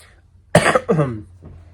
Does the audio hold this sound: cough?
yes